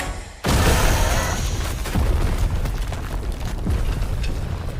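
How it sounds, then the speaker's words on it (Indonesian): A bomb detonates in an animated war film: a sudden loud blast bursts in after a brief quiet moment, followed by sustained rumbling and crackling debris with a few further thuds, no voices. "si anak buah pun mengeluarkan sebuah bom untuk meledakkan dirinya bersama si gajah"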